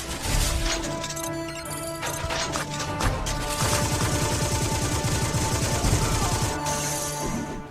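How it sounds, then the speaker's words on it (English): The XJ9 machine gun fires in the video game Advent Rising, with dense, loud bursts of gunfire and impacts running continuously over a busy game soundtrack. "let's use the XJ9, a machine gun"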